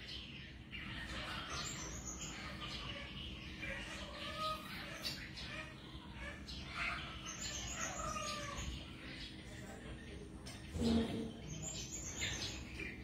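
Caged songbirds are set outdoors and give faint scattered chirps and short calls over soft background noise, with a brief louder rustle near the end and some quiet talk.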